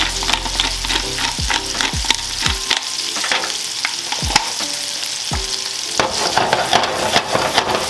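Mushrooms frying in a hot pan, a loud steady sizzle close by with occasional clinks and scrapes of a utensil, no one speaking.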